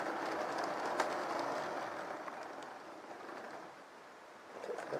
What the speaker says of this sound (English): We'll just move the Dapol Pendolino along to a straight piece of track so it can be compared.